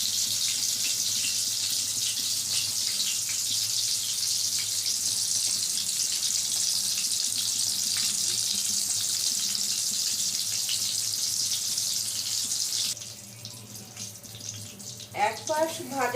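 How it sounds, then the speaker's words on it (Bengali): Slices of pointed gourd (parwal) fry in oil in a pan over low heat, giving a steady close hiss of sizzling that quietens near the end, where a few clinks and light handling noises follow. "এক পাশ ভাজা হয়ে গেছে, আর এক পাশ ভেজে নিচ্ছে।"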